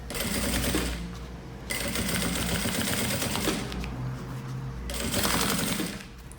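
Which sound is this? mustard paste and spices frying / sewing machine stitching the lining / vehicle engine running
sewing machine stitching the lining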